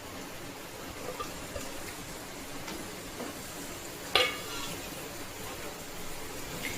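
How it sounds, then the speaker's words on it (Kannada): Chopped carrots fry in half a spoon of hot ghee in a pan for a homemade carrot chutney powder, a steady close sizzle with one sharp utensil clink partway through and no voices. "ಇದು ಬಿಸಿ ಆದ ನಂತರ ಹೆಚ್ಚಿಟ್ಕೊಂಡಂತಹ ಈ ಕ್ಯಾರೆಟ್ನ ಇದರಲ್ಲಿ ಹಾಕ್ಕೊಳ್ಳೋಣ"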